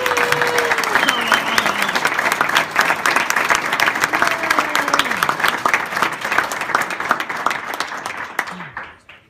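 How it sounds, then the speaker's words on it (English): A crowd at an award ceremony gives a long, sustained round of applause for Henry, a lifetime achievement recipient, with thick clapping and a few whistles and voices in the mix before it tapers off. "let's give Henry one more round of applause."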